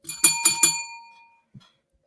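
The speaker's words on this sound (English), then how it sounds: "How come my bell faded off like that?" Bell sound effect: three quick bright rings, then a long fading tail that dies away, followed by one faint short click near the end.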